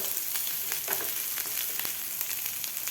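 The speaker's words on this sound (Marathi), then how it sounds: "आता कांदा आपल्याला दोन ते तीन मिनिट आणखीन भाजून घ्यायचा आहे मसालेबरोबर" Sliced onion frying with whole spices in a pan for a soya chunk curry, a steady, fairly quiet sizzle with faint crackles and no voices.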